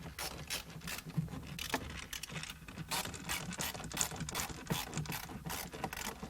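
A manual screwdriver tightens the screws on a double-DIN car stereo mount in a BMW E46, giving dense, irregular ratcheting clicks and small mechanical taps that are fairly close and moderately quiet against a steady low hum.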